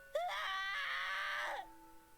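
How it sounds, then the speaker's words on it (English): A child character screaming in fear in the video game Ever 17, set underwater in a suddenly darkened room: one sustained high wailing scream lasting over a second, then cutting off. "The kid screams in fear."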